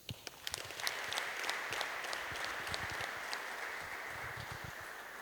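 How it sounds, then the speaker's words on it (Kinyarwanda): An audience applauding at a church teaching gathering, clapping that starts in sparse claps and swells into a steady, moderately distant patter that holds to the end. "Mwakoze, muntize amashyi tubashimire."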